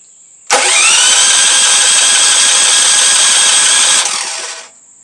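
A DuroMax dual fuel generator is cranked by its electric starter, a loud steady grinding whir lasting about three and a half seconds that winds down without the engine catching, with a faint high tone before and after.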